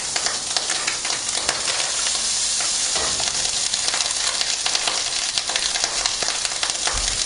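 Egg and a tablespoon of butter frying in a pan while being stirred, a dense, loud, continuous sizzle with faint scraping throughout.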